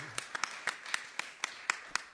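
Scattered, sparse hand claps, about eight distinct claps spread over two seconds, faint and distant, from an audience applauding a special guest, Massimo Perro.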